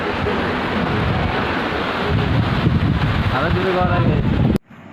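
Heavy rain pours steadily at a petrol pump, a dense, loud hiss of falling water that fills the whole scene before cutting off abruptly near the end.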